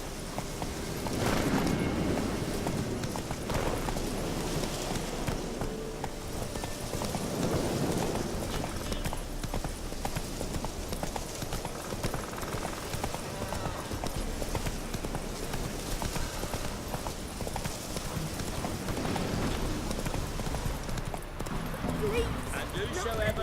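Roach the horse galloping in The Witcher 3, a steady rapid clip-clop of hooves running for the whole stretch, moderately loud, with a voice talking over parts of it.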